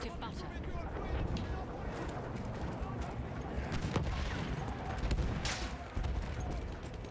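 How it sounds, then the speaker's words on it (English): Enemy sniper and rifle fire in the Battlefield 1 battlefield, with scattered sharp cracks and distant rumble over a dense wash of combat noise; voices can be heard talking. "Watch out, there's enemy snipers shooting at you"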